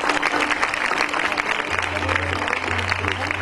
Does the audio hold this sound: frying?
no